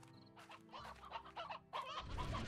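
Chickens in a video game cluck quietly in a few quick bursts, with one louder, fuller burst at the end.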